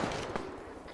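Gunfire from a firefight in the video game Arma, a brief burst of muffled, overlapping shots at moderate distance filling the whole second, fairly faint.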